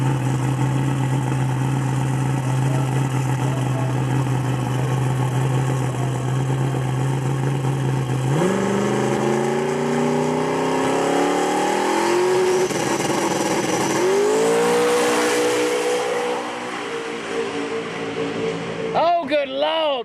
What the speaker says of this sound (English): Tune in ProMod Randy's car